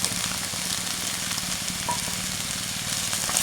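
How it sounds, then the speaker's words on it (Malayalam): Onions, green chilies and ginger fry in a pan for a masala dosa filling, giving a steady, close, fairly loud sizzle with no speech. "ഉള്ളിയും പച്ചമുളകും വഴന്നു വന്ന് ഈ സമയത്ത് നമുക്ക് മുറിച്ച് വെച്ചിരിക്കുന്ന ഇഞ്ചി ചേർക്കാം"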